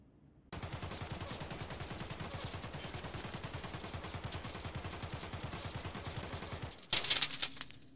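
Sustained automatic gunfire in Escape from Tarkov during recoil control training: a loud, rapid, evenly spaced stream of shots for about six seconds, ending in a sharp burst of clatter.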